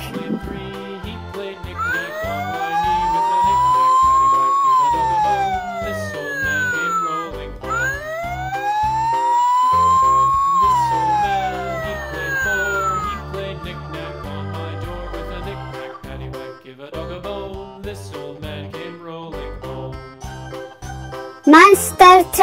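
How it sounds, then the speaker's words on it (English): Fire truck siren in two long wailing sweeps that rise and fall slowly, set over a jingly children's music backing, fairly loud and clear. "Fire truck."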